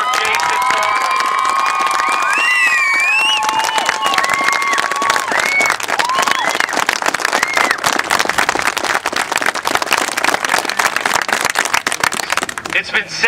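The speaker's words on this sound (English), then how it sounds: "I'd like a round of applause for John Foreman," A crowd at an outdoor citizens' protest claps and cheers together, with loud overlapping applause, shouts and whoops, and voices mixed into the continuous roar.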